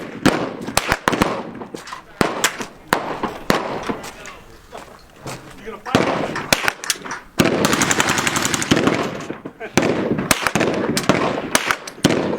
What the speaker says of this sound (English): shooting is a M16 with a suppressor, a silencer